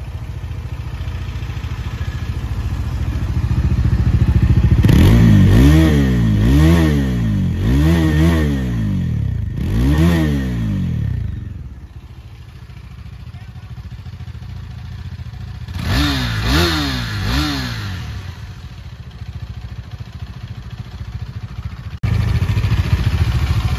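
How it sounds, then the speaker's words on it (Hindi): A 2023 KTM Duke 390 and a Bajaj Dominar 400 play their exhaust notes close up. Several sharp rev blips rise and fall in quick groups over a loud idle, with a quieter idling lull in between. "अभी मैं इन दोनों का आपको एग्जॉस्ट नोट सुनाने वाला हूँ"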